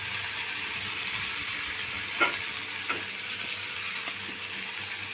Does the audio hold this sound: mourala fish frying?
yes